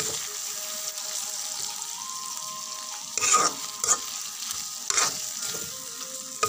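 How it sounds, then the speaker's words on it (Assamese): Meat and chaat masala are stirred in a sizzling pan, with steady frying hiss and several distinct scraping stirs, close and clear with no talk. "মই চাট মচলা দিছোঁ এইখিনি মই অলপদৰি ভালদৰে মিলাই অলপ সিজাই লৈছোঁ"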